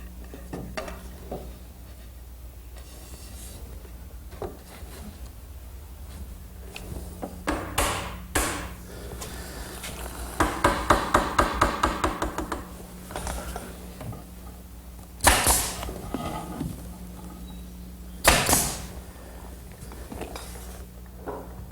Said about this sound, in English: I'll glue it and nail it in place.